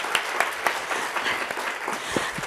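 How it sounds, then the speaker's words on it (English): An audience at a university thesis competition's closing ceremony claps in a brief, moderately loud round of scattered hand claps. "I think you really all deserve a round of applause"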